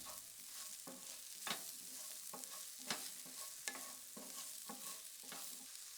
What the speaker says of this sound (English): Then add the carrots and let cook for a few more minutes